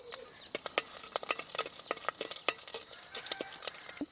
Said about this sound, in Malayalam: എണ്ണ ഇങ്ങനെ ചൂടായി വരുമ്പോൾ നമുക്ക് 1 ഇഞ്ച് വലിപ്പത്തിലുള്ള ഇഞ്ചിയും 8 വെളുത്തുള്ളിയും ഇതിലിട്ട് ഇതേപോലെ തന്നെ വാട്ടിയെടുക്കാം